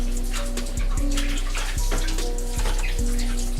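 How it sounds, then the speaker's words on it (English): Tap water running steadily over a whiting fish being rinsed in a kitchen sink, a constant close splashing stream with small shifts in its tone as the fish is moved under it. "So we're gonna hit this up with some water."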